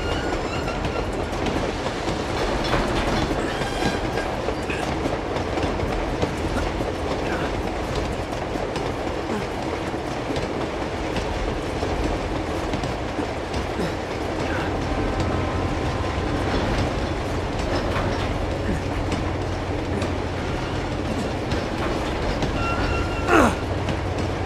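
A train rolling along on the train level of the video game Uncharted 2, a steady rumbling clickety-clack with a brief metallic squeal near the end.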